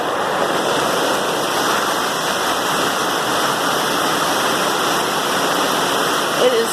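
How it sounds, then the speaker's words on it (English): A heavy rain downpour heard from beneath an umbrella during a flooding thunderstorm, a dense, steady roar of falling water that stays loud and unbroken throughout. "It is quite the downpour."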